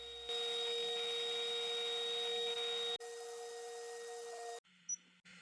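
An xTool M1 Ultra laser engraves an image onto faux leather at 25% power, giving a steady machine hum with a constant whining tone that cuts out near the end, leaving faint fan noise.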